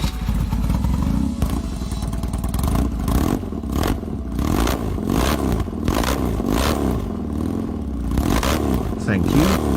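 The engine of a custom big motorbike, the Black Stallion number 2, rumbles and revs close up, with repeated throaty surges and a mechanical clatter over a steady low drone.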